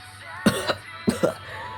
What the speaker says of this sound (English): Piccolo coughs out blood